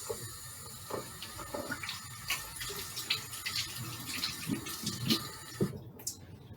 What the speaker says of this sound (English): I will wash my hands.